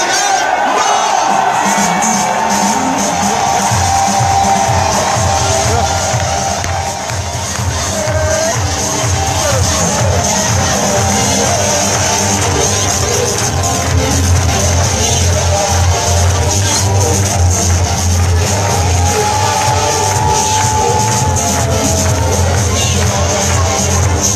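A large crowd at a political rally headquarters cheers, whoops and shouts continuously for a long stretch, loud and close, with clapping and a speaker's voice mixed into the din.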